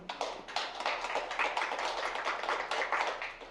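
An audience at a digital healthcare program results briefing claps for the next presenter, a brisk, close burst of applause with distinct individual hand claps throughout.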